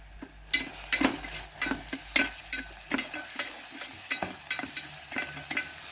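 Onions and green chillies frying in a pan, stirred with a rhythmic run of spoon scrapes and knocks roughly every half second over a continuous sizzle, fairly close.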